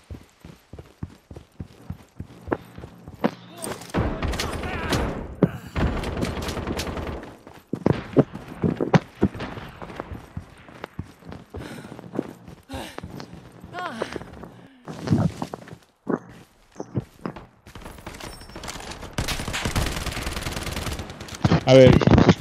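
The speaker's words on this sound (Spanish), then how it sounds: "escucho disparos por acá por la izquierda" Bursts of rapid gunfire crackle on and off throughout in the video game Lost Light, some distant and some close, with occasional talking between the volleys.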